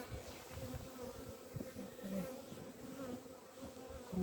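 Honey bees buzzing at an open beehive, a low steady droning hum from many bees, close and fairly quiet, with passing individual buzzes rising and falling.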